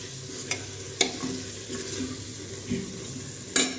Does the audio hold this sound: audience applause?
no